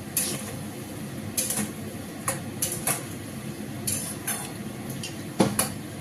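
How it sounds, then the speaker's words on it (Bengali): A spoon scrapes and knocks against a pan as kofta curry with added sugar is stirred, producing irregular close clinks and taps over a low cooking rumble. "ভালো করে নাড়িয়ে নেবো।"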